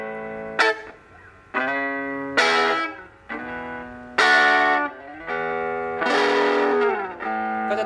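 An electric guitar plays sustained chords through a small 5-watt amp turned all the way up, with slight crunchy breakup, each strum ringing out and fading before the next, loud and close.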